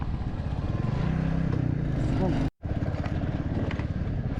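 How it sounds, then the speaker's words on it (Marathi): A motorcycle ridden for a long stretch on a mountain road through the Darma Valley toward Pithoragarh, its engine giving a steady, close droning rumble that cuts out for a split second midway, then resumes. "अराऊंड 2 तास झालं कंटिन्युअस बाईक चालवतोय."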